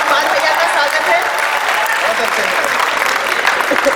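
A large audience at a poetry recital during the Aligarh Mahotsav applauds loudly and steadily, a dense, unbroken wash of clapping from many hands.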